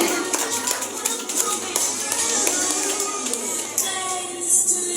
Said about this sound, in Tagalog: Palakpakan po natin!